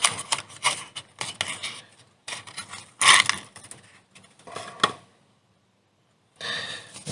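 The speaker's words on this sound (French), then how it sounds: "Je vais déballer le leurre avec vous." A Vendetta fishing lure made of biodegradable resin is unwrapped from its packaging, with bursts of close crinkling, rubbing and scratching separated by pauses, including a near-silent gap before a final rustle.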